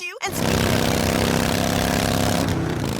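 A motorcycle engine from a Progressive insurance commercial runs loud and steady, a dense rumbling drone that starts abruptly after a brief pause and holds without letup.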